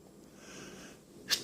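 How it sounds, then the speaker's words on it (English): One quick, sharp sneeze bursts out near the end over a quiet background. "another sneeze."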